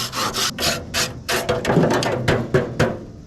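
Metal scraper rasping grease off the grates of a Pit Boss pellet smoker grill, a run of close, loud strokes in quick irregular succession, each a short gritty scrape with brief gaps between.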